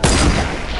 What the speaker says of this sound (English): Yo, I hear gunshots.